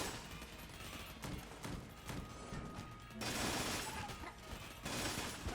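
Rapid gunfire from Platinum Bullets in the video game Enter the Gungeon, a dense, continuous stream of shots that stays loud and unbroken throughout and swells further in the second half.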